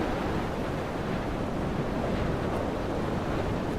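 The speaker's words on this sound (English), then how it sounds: "Wow, it's windy." Steady roar of wind and crashing waves along a coastline in the video game Dear Esther, loud and continuous with no voices over it.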